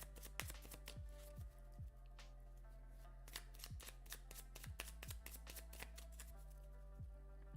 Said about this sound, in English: I'm going to start shuffling some of these cards.